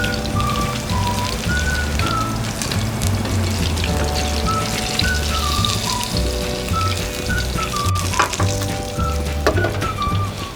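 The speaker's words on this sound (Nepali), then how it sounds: "अब यो माछा पनि फ्राई भइसक्यो।" Fish pieces frying in hot oil for a fish curry, a dense continuous sizzle and crackle with steady spitting, loud and close, heard alone without talk, with a faint low hum underneath.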